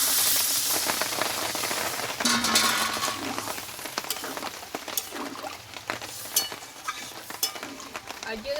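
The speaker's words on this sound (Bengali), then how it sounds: "এবার জলটা আমি দিয়ে দেবো পরিমাণ মতো" Water poured into a simmering potato and pointed gourd curry in a pan produces a hissing, bubbling sizzle with scattered stirring clatters, close and fairly loud, no voices.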